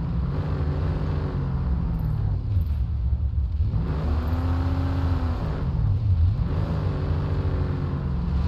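A vehicle in the online shooter PlanetSide 2 drives along with a steady engine rumble and whir, swelling and dipping as it speeds up and eases off, loud and close throughout.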